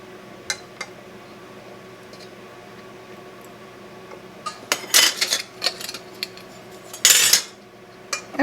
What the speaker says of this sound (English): now we're going to tighten down our rings, and this is important, or bands